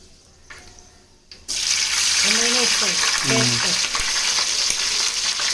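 Green chillies dropped into hot oil already holding fenugreek seeds burst into a loud, steady sizzle after a quiet start, with a voice briefly heard over the frying.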